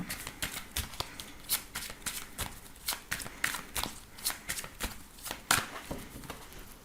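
Oracle and tarot cards shuffled by hand, a steady series of crisp riffling slaps and flicks, close and fairly loud, repeating about twice a second with no talk over it.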